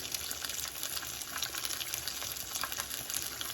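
Water sloshes and splashes steadily as barbouni fish are dipped and rinsed during cleaning in an Alexandrian-style home kitchen, with a continuous close watery hiss throughout.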